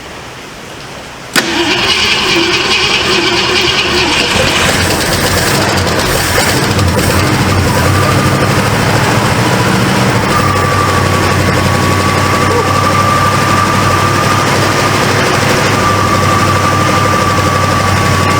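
A flooded 1966 Ford Mustang engine cranks after a sharp start, then catches into a loud, steady rumbling idle that runs on continuously, with a faint whine rising later.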